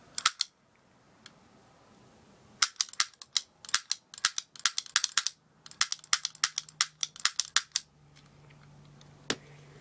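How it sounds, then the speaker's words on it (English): A cap gun replica of the .357 Magnum prop from Fallout New Vegas snapping off sharp, crisp cracks, with a couple of isolated shots and then quick irregular bursts of many close pops. "Now it's a cap gun, so you can load it with caps and it makes a big sound."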